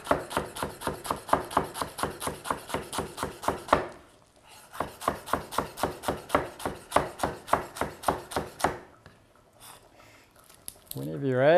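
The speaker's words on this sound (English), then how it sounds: "So you just tighten it up into a bunch there and chop away as finely or roughly as you like." A knife chops a tight bunch of fresh coriander on a board in quick, even strokes, two long runs of close rhythmic chopping split by a short pause, with a voice coming in at the end.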